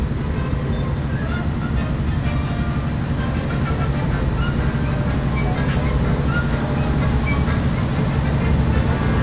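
A Walt Disney World monorail train rolls past in a steady, loud rumble with faint rhythmic clicks and a high whine riding over it, continuous for about nine seconds with no break.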